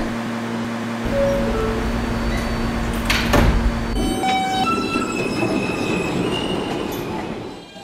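A J Express subway train stands at a platform as its doors slide shut, with a sharp clunk and hiss midway followed by a low rumbling hum and faint squealing as the train begins to move.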